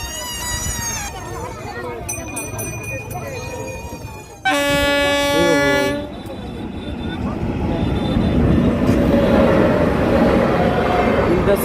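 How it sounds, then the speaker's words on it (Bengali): The Jogbani–Siliguri Town Intercity Express passes a closed railway level crossing near Dalkhola, first sounding several loud, sustained horn blasts, then growing into a heavy, rising rumble as the train rolls by close at hand. "Jogbani two Siliguri town intercity express পার হচ্ছিল।"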